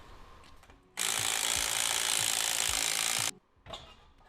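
A mechanic works on a wheel of a Volvo V70R with a tool, giving one loud steady whirring, ratcheting burst of a couple of seconds, close by, framed by faint clanks.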